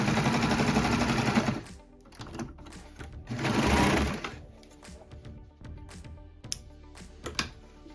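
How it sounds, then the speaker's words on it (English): A sewing machine stitches a fold-over elastic waistband in the round, running in two fast rattling bursts separated by a pause, followed by scattered light clicks and handling sounds up close. "I just like to sew, since I'm doing it in the round, about an inch over the top of my first stitches"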